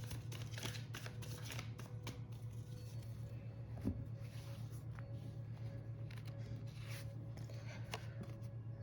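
Tarot cards being shuffled and drawn, giving a soft, steady flutter of riffling and sliding card noise with a few sharper snaps, close by over a constant low hum, without speech.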